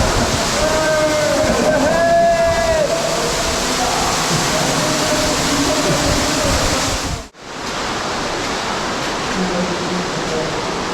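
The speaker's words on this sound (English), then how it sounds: "We made it through the waterfall." Heavy water pours down inside an old metal mine in Mid Wales as someone passes through the waterfall, a loud continuous roar with faint voices underneath before a sudden brief cutout and a softer rushing.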